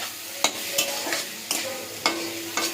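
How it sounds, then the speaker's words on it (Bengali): Food frying in a spiced fish dish, cooked in a pan, with steady sizzling crackle broken by about six sharp spatula scrapes and knocks at a loose rhythm, heard close up with no talking. "এবার এটা আমার হয়ে যাচ্ছে ভাজা,"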